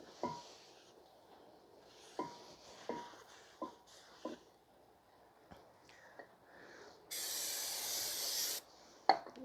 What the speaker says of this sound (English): You want to spray some brake cleaner, clean everything down.